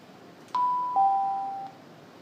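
A classroom bell at school gives a two-tone electronic chime, ding then dong, ringing clearly once and fading after about a second, with no talk over it.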